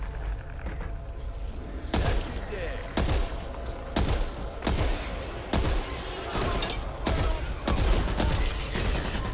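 Sharp gunshots from the zombie shooter game Back 4 Blood ring out at a steady pace, about eight heavy cracks spaced roughly a second apart over a low, busy game-world background.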